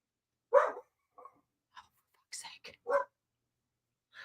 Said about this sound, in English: I'm really sorry for all the barking